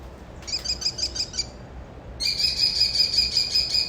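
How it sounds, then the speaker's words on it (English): Recorded call of the smallest, most common falcon in the U.S., played through a speaker: two bursts of sharp, rapid, repeated high chirps, the second louder and longer, over faint background noise. "So this is the smallest, it's the most common falcon found around the U.S."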